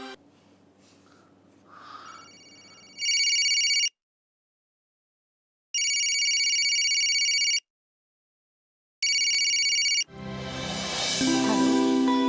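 Telephone ringing, three loud electronic rings with silent gaps between, preceded by faint breathing and followed by a burst of dramatic background music.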